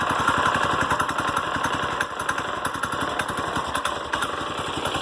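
A Manco go-kart's small engine idles at half choke, a steady, fast, even putter running close and loud for the whole stretch without a break.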